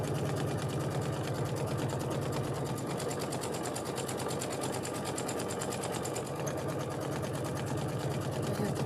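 A sewing machine stitches a fabric book bag made from Riley Blake fabric, running in one steady, rapid, close-up burst of stitching that lasts the whole time.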